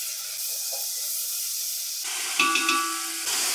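Whole spices, including cinnamon sticks and bay leaves, roast in hot oil with ginger garlic paste for fish biryani, giving a constant hiss that swells into a louder, sharper sizzle partway through.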